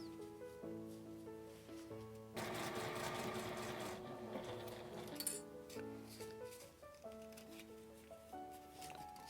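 Sewing machine stitching the folded fabric edge of a small round zippered pouch with a 12 cm zipper, a steady whirring run close by beneath soft background music, then trailing off.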